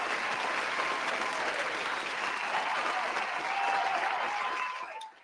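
A round of applause on a 49ers football talk show: a thick, continuous wash of many clapping hands at steady volume that cuts off abruptly at the end.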